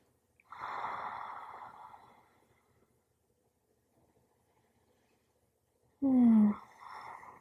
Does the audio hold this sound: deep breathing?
yes